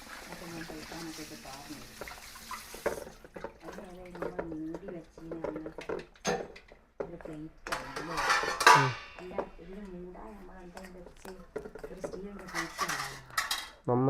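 Beaten egg mixture being stirred in a bowl, with a spoon clinking and scraping against the sides in irregular bursts, close up, while people talk throughout.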